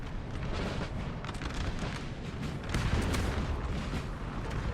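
Massed cannon fire booming in a Napoleon Total War 4v4 battle as an Austrian assault meets a defended flank, a dense, continuous roar of overlapping blasts and rumbling that swells louder midway.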